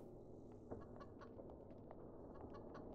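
A chicken in the video game Evil Nun clucks in short, repeated bursts over a low, steady background hum, faint and sounding some distance off.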